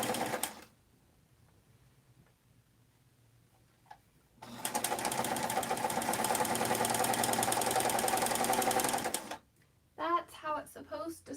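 A sewing machine stitches fabric for a garment's sleeve, a fast even mechanical chatter running about five seconds after a quiet pause with faint handling noises, followed by someone talking.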